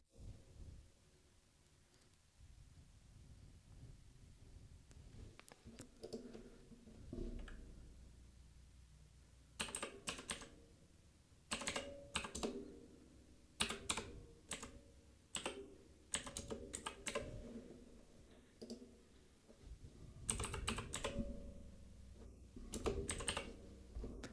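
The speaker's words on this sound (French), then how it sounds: "saisissez soigneusement les informations de la carte" Bank card details are typed on a computer keyboard in quiet, close bursts of rapid key clicks separated by short pauses, with no speech.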